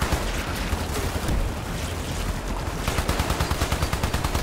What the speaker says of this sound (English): Oh, explosion happened.